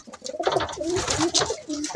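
Pigeons sit in a nest with their young, giving soft low repeated coos close by, several rolling calls in quick succession with no talk over them.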